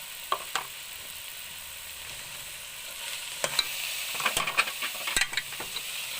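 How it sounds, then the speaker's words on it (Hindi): A spoon stirs pumpkin halwa with coconut, almonds and dry fruits in a pan, producing scattered scraping clicks over a soft, steady sizzle, close and moderately quiet, with the scraping growing busier toward the end. "अब इसको मिक्स कर लेंगे।"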